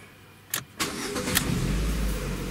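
A Lada car engine starts after repair work on the oil pump gasket: a couple of short starter cranks, then the engine catches and settles into a steady, loud idle close by.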